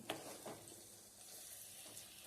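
Faint, soft sizzle of khas khas (poppy seed) panjiri dry-roasting in a pan over low gas, with a few light scraping strokes near the start and end and a quiet hiss between them.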